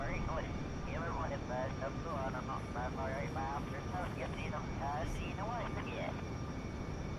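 A steady aircraft engine drone from a plane flying around Kerbin in Kerbal Space Program runs throughout, mostly covered by continuous talking.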